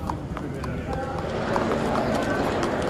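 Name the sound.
racehorses moving from stables beneath the grandstand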